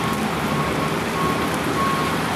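Pouring rain in a video game hisses as a dense, even wash of noise, steady and fairly loud throughout with no other clear sounds.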